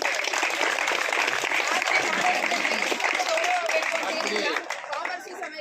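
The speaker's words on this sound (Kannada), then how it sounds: "ಜೋರಾದ ಚಪ್ಪಾಳೆಯೊಂದಿಗೆ" Loud, sustained clapping fills a college results celebration, with crowd chatter blended in and the applause thinning slightly near the end.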